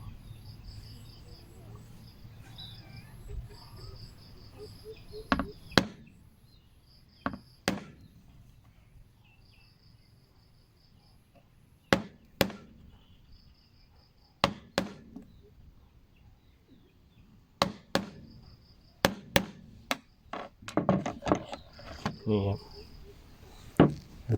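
Sharp hammer taps mark a spot on scrap material before drilling, coming as scattered single knocks and short quick clusters, close and crisp against a quiet background with faint insect chirping.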